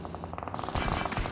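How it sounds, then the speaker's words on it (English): Gunfire crackles in a PUBG Mobile competitive scrim match as a rapid, fairly faint burst of automatic shots, followed by a denser, louder cluster of shots near the end. "And Diverse Viper for the moment is getting shot."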